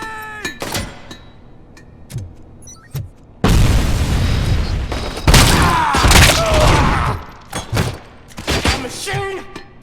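A grenade explodes in the film Robocop: heavy, booming blasts burst out in the middle of the clip, with a second loud blast and rattling, gunfire-like pops around them, and a few shouted voices before and after.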